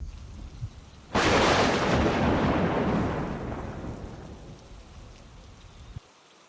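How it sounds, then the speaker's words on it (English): A sudden loud thunderclap bursts over heavy rain, then rolls and slowly fades into a steady rain hiss before cutting off, with no voices. "It's just thunder, Lily."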